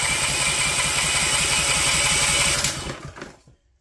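A Honda GX340 small engine cranking on its electric key start, a rapid even chugging of the starter for about three seconds before it stops and falls silent, with no ignition.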